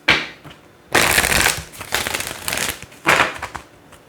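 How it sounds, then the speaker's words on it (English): A deck of tarot cards is riffled and shuffled by hand in four rapid, crisp bursts separated by short pauses, close and fairly loud, with no talking. "One last shuffle for you"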